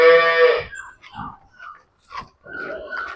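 A water buffalo gives one loud, close lowing call, followed by scattered quieter rustles and snorts.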